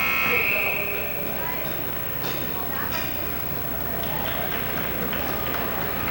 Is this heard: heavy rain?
no